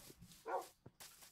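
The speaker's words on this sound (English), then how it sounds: "The dogs are evil." A short, faint bark from a dog mob in Minecraft Bedrock, a single yip-like call amid quiet game background sounds.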